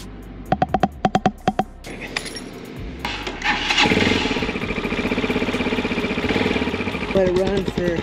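A 2021 CSC TT250 motorcycle engine is cranked and catches after an oil change, then idles in a steady, fast-pulsing putter at close range after a few clicks and brief speech.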